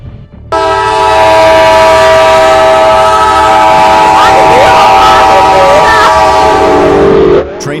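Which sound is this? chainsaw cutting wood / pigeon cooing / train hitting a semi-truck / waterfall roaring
train hitting a semi-truck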